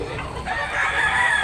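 A white-legged rooster at a chicken sale crows once, a single sustained call at moderate loudness over background noise.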